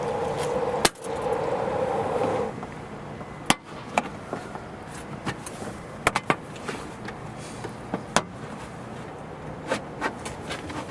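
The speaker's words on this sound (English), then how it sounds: "we will start pulling this panel up" A plastic scuff panel in the liftgate area of a Lexus UX is pulled up off its clips, giving sharp clicks and pops spaced irregularly, with a few louder snaps over quiet handling noise.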